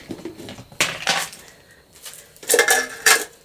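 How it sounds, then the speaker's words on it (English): Charcoal is poured and scooped into a vivarium substrate mix, making gritty, rattling crunches in several bursts with quieter gaps between. "I'm going to add some charcoal to my mix"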